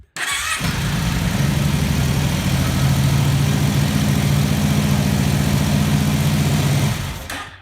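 A Kawasaki Brute Force ATV engine cranks briefly and fires up, then settles into a loud, steady idle that runs close to the microphone for several seconds before cutting off abruptly.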